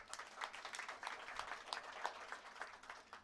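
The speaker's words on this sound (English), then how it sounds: "Round of applause for all of them." An audience claps steadily at a library branch grand opening in West Park, a faint, even patter of many hands heard from a distance, with no voices over it.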